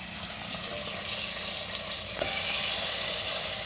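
Meat searing in a hot pan while cooking ramen: a steady, close, continuous sizzle and frying hiss that swells slightly partway through, heard alone without talk.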